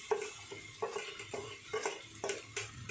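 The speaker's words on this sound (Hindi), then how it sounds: "पहले भून लूंगी अच्छी तरह से, अरहर के दाल के या घी या तेल में या सूखा भी पहले भूनते हैं" Arhar dal roasts in ghee or oil in a pan, with soft rhythmic scraping stirs and a faint sizzle, close but quiet.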